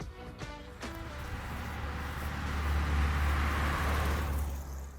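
A 1600L Volkswagen Beetle driving, heard from the cabin as a low rumbling engine drone that swells a little as the car moves, with faint clicks at the start and no talking.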